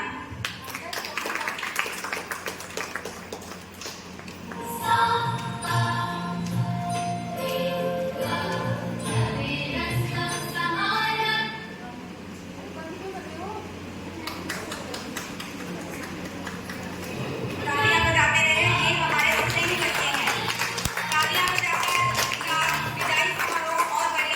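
An audience at a school farewell function claps steadily for a long stretch, the applause swelling and thinning while voices carry over it.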